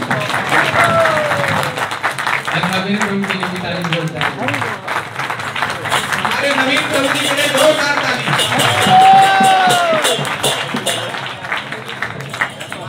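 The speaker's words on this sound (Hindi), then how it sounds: "आप सभी को प्रार्थना करता हूँ तालियां हो जाए प्लीज" An audience at a devotional centennial program in Delhi applauds in a sustained wave of clapping, with a voice speaking over the crowd in places.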